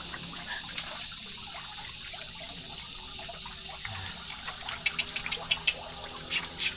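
Water flows steadily at a resort, a soft, continuous rush that stays low and even, with a few louder splashes and knocks breaking through near the end.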